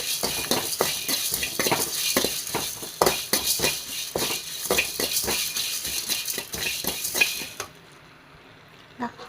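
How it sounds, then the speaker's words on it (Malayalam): Whole spices rattle and scrape as they dry-roast in a pan, a utensil stirring them in quick, repeated strokes, stopping near the end. "ഇതൊന്ന് വറുത്ത് എടുക്കാം"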